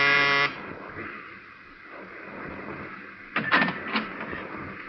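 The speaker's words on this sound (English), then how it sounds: "but I pushed the buzzer anyway" A harsh electric buzz sounds loudly for about half a second at the start, followed by a quiet room and a few faint thumps and rattles.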